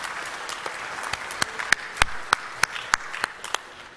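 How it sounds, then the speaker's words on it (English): A club audience applauds itself with scattered, distinct hand claps over a soft wash of clapping; the claps are fairly quiet and uneven, spread across a few seconds. "You should all applaud yourselves."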